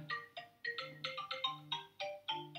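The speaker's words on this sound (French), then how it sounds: "Encore le téléphone." A telephone ringtone plays a rapid melodic sequence of repeated bright electronic notes, faint and alone, while someone knits nearby.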